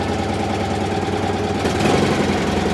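A car engine, turned over on the starter motor alone without choke or throttle, settles into a steady, loud, continuous idle rumble with a slight rise in intensity near the end and no talking.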